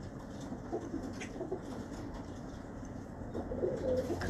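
A Ferozpuri cross pigeon coos softly up close, a few low murmuring calls scattered through a quiet, slightly noisy background.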